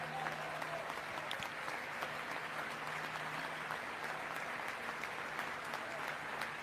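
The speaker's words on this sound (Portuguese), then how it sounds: "Republicanos aplaudem de pé," Members of Congress give a standing ovation during a presidential address to Congress, producing continuous, even applause from a large chamber, heard from a distance with no break.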